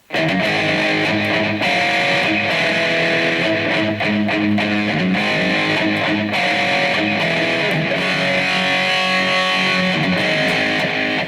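Electric guitar through a BOSS eBand JS-10 rings out with a dense, distorted tone and echoing delay repeats smearing the notes together, loud and continuous throughout.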